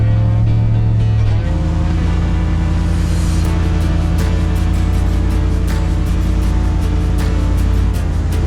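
An 800hp Hemi-swapped Jeep Gladiator on 40-inch tires crawls uphill off road through snow, its engine giving a loud, steady, deep rumble that holds throughout with no talk over it.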